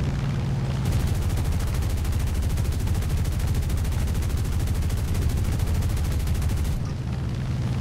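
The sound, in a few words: gunfire in a video game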